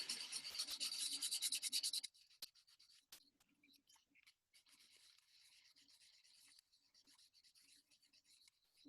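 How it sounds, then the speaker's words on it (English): Sandpaper rubbing over the needle-pierced spot of a pinhole camera to remove burrs, starting with a dense two-second scrape, then lighter, intermittent strokes, close and quiet. "Next thing you're gonna do is sand it with the sandpaper."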